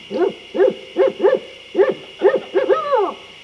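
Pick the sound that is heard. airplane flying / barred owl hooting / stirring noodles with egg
barred owl hooting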